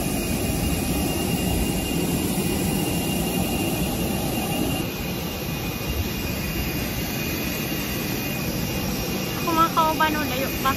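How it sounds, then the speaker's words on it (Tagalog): An airplane at Laguindingan International Airport produces a broad, steady jet engine roar with a sustained high whine, heard at some distance beneath faint background voices. "I think our aeroplano has arrived."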